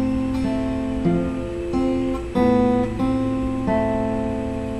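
Acoustic guitar playing a section of a song, with steady picked notes and chord changes ringing together in a moderate rhythm, close and clear with no talking.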